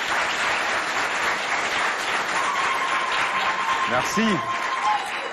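Audience applause fills a hall at a school show in Doba, steady broadband clapping throughout, with a voice briefly speaking over it near the end.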